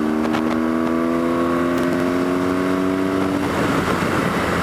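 A BMW R1200GSA motorcycle engine revs and pulls away, a steady droning tone that climbs in pitch, loud and close, then gives way to rushing wind noise.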